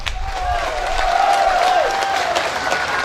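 Rally audience applauding at a community gathering in Kemabung, a dense wash of clapping and crowd noise that holds steady and full throughout, with a faint sustained tone running through it.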